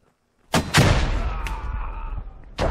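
A grenade explodes in a video game with a sharp, heavy blast that decays into a rumbling tail, then a second burst follows near the end, loud and close with no talk over it.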